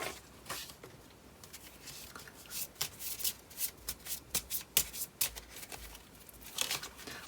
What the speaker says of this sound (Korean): 2번 카드 뽑아보겠습니다.